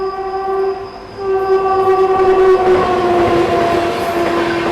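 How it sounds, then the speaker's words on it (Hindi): Jaipur–Mumbai Central Gangaur Express on an Indian main line, its loud sustained horn blaring over the rising rumble and rattle of the passing train, close by and without voices. "इधर इस तरफ देखिए, गणगौर एक्सप्रेस आ गई।"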